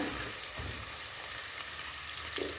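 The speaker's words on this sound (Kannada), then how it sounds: "ಹಸಿಮೆಣಸಿನ್ಕಾಯಿ ಹ್ಞೂ ಓಕೆ ಇದನ್ನು ಫ್ರೈ ಮಾಡೋಣ" Green chillies frying in hot oil, a soft continuous sizzle with faint crackles, fairly quiet and steady with no voices over it.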